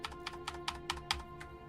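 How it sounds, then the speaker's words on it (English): A computer mouse button clicks repeatedly while Crusader Kings 3 is played, eight or so crisp, evenly spaced clicks over a faint steady hum, close and quiet, with no talking. "You can hear that I'm clicking the button."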